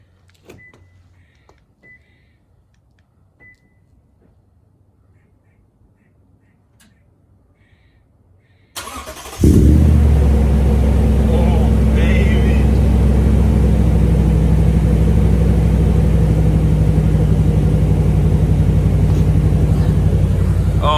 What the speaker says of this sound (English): here's the first startup and cold start